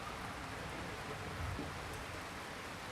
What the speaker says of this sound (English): This is monsoon style rain.